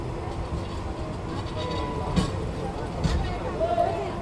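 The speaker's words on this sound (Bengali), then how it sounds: "আমাদের ট্রেন আন্তনগর মোহনগঞ্জ এক্সপ্রেস ছেড়ে দিল ঢাকা রেলওয়ে স্টেশন থেকে" Mohanganj Express intercity train pulling out of Dhaka railway station, a steady low rumble of wheels and carriages rolling under continuous talk, with a couple of brief clanks from the track.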